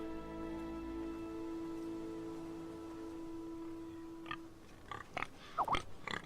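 A pig oinks in the Game of Thrones video game, several short grunts toward the end after a steady tonal ambient hum.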